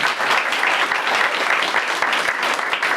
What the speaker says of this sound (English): Please give them a big round of applause again.